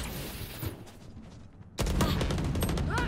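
Gunfire in the video game Valorant: a quieter stretch of game sounds, then a loud burst of rapid shots and clattering effects over the last half.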